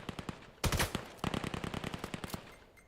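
Automatic AK-12 gunfire in the VR shooter VAIL during a competitive match, rapid sharp bursts of shots with a short gap and then a longer rattling string that tapers off.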